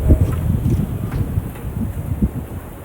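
Wind blowing through bamboo at a jungle crash site in Thailand, a steady low buffeting rush with soft rustling and gusty swells, no voices.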